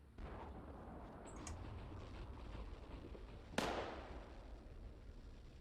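A tank gun fires once in the Steel Beasts Pro PE video game, a sharp booming crack with a fading tail, standing out above a steady low rumble of engine and background noise.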